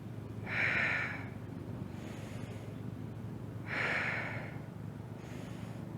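Two slow, audible breaths during a Pilates exercise, each a breathy exhale followed by a quieter pause, close and unhurried, with no speech.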